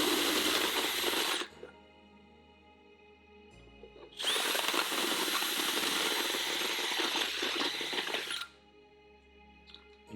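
A high-pitched Dremel rotary tool whines loudly cutting through plastic in two long bursts, grinding steadily, with a short quieter pause between them.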